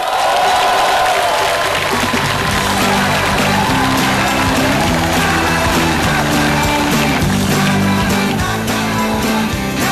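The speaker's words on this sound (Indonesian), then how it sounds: "beri tepuk tangan yang meriah untuk Mario Teguh" Stand-up comedy audience giving loud applause for Mario Teguh, a dense roar of clapping and cheering crowd noise throughout, with music or a sustained tonal bed running underneath.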